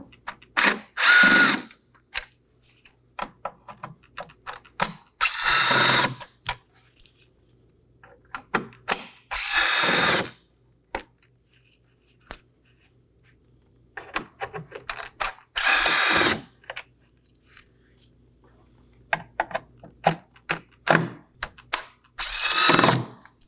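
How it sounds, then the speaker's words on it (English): Six T15 Torx screws are backed out of the grille of a 2018-2024 Chevrolet Equinox 1.5L with a powered driver, in several short whirring bursts with ratcheting clicks between them and quiet pauses. "locate our 6 T15 Torx screws on our grill. We're going to go ahead and remove those now. I'll be using a T15 Torx bit"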